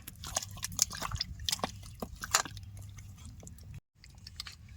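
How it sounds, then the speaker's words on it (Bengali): Fish being mixed by hand with turmeric, spices and mustard oil, giving close, wet squelching and slapping sounds in an irregular rhythm, with a brief pause near the end. "মশলার সাথে মাছ ভালো করে মাহাই নিছি"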